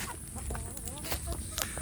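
Free-range village chickens, including chicks being raised in a netted pen, clucking and peeping in short scattered calls at close range with no talk.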